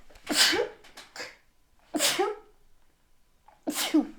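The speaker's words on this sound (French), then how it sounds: "J'ai éternué." Three loud sneezes from a woman, close to the listener, each a sharp burst followed by a short gap.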